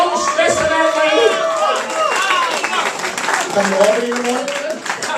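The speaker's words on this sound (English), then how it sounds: "Give his mother a round of applause, ladies and gentlemen." A crowd at a candidate's election victory speech claps and cheers loudly with scattered whoops, and a voice talks over the noise.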